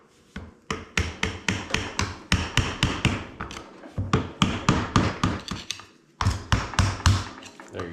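Spring rings on a Can-Am shock are tightened by tapping, producing rapid, sharp metallic taps in quick bursts, close and fairly loud, with a short pause before the tapping resumes.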